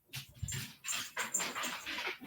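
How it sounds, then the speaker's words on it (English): Several dogs bark from upstairs in a house, muffled bursts in quick succession with short pauses, no talking over them. "my dogs are going absolutely berserk upstairs"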